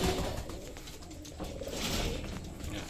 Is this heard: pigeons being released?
yes